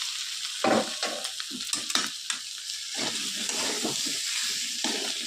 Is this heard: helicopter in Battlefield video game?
no